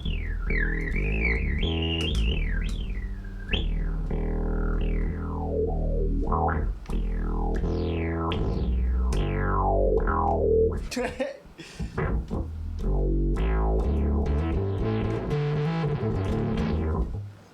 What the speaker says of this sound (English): So just different kinds of distortion in the center there.